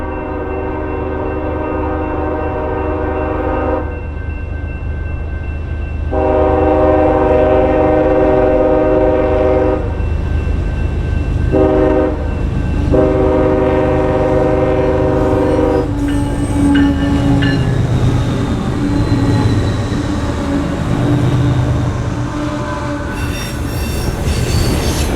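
A Conrail heritage-unit freight train rolls past Red House at the start of Richmond Hill, its horn sounding in long repeated blasts over the steady rumble of locomotives, followed by wheel squeal and clanking freight cars close by.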